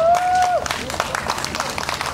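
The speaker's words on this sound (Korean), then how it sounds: "여러분 큰 박수로 맞아주시기 바랍니다" Festival crowd clapping at an outdoor beach stage on an island during a singer's introduction, scattered and fairly light hand claps following a brief sustained tone, with a voice briefly heard.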